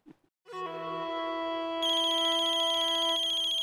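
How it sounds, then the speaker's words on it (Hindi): Phone ringtone ringing indoors, a steady electronic melodic tone that starts after a brief click and continues loudly, growing brighter partway through, with no talking. "प्रमोद भाई का फोन"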